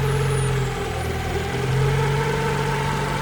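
A Honda Civic with a freshly renewed engine idles in a repair shop, a steady low hum and drone close by throughout, with no talk.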